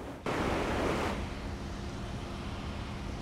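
Rushing river water surges through a flooded canal along the James River, a loud, continuous roar of churning current that swells briefly at the start and then holds steady.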